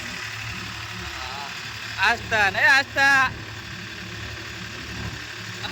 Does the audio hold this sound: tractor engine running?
yes